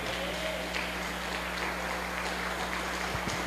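Church congregation applauding during a service, a steady, dense wash of clapping throughout, moderately loud and even.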